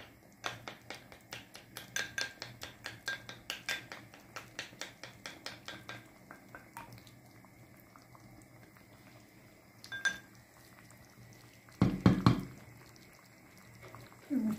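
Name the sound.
whisking an egg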